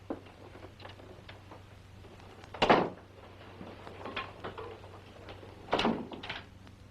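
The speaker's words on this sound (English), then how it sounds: "You locked my door." An old door's lock and latch clack twice, sharp wooden-metal knocks a few seconds apart, with faint rustles between them over a low steady hum in a quiet room.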